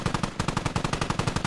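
Rapid automatic gunfire in a military video game, a fast, evenly spaced burst of around twenty loud shots rattling continuously, with no talk over it.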